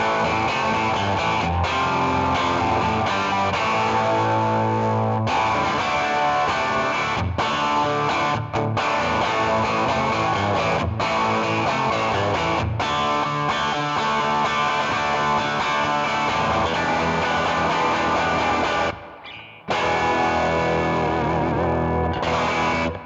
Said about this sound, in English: I can turn the amp up and get amp distortion.